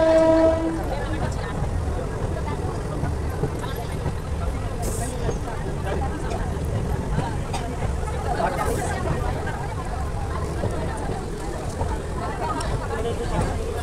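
A Nepal railway train pulls away from Baidehee station with a steady rumble of rolling wagons and a short horn at the start, while people talk nearby throughout.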